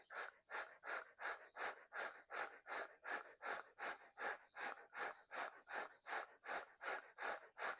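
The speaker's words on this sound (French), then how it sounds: "on va commencer avec la respiration du feu." Breath of fire yoga breathing, a rapid pumping rhythm of sharp nasal exhales at about two per second, repeated evenly and close to the microphone with no talking.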